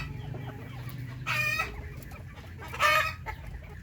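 Darag native chickens clucking, with two short, loud bursts of calls standing out over soft farmyard murmur, close by and with no talk.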